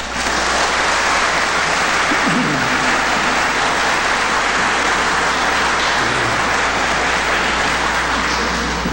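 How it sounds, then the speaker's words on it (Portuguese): Audience applause at a 1999 Spiritist conference in a hall, a dense, steady wash of clapping that fills the whole stretch at an even, loud level, with no speech over it. "Vamos envolvê-lo com os nossos aplausos."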